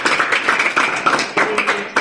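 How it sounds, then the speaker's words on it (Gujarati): An audience claps hands together at a student motivational gathering, a close, fairly loud patter of steady clapping throughout with a few stronger claps standing out. "તો આપણી જાત માટે ફરી વખત આપણે તાળી એક વખત પાડી લઈએ"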